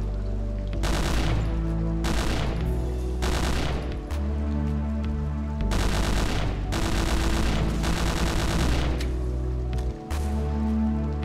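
Dense automatic gunfire from the World War II shooter Hidden & Dangerous 2, with long sustained bursts and brief pauses, loud and close throughout, and no talk over it.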